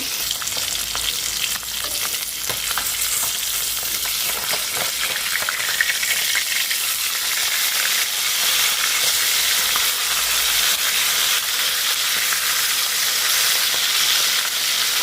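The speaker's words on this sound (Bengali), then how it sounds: "তো এই যে মাছটা এখানে ভাজা হচ্ছে" Fish fry in hot oil in a wok, giving a loud, steady sizzle and crackle that goes on throughout with a few sharper spatters near the start; nobody speaks.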